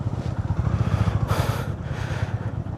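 A motorcycle pulls away at the start of a December road trip from Ravangla, its engine a close, pulsing low rumble that stays steady throughout, with a brief rise in noise midway.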